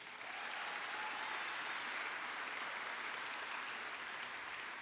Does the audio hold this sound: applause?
yes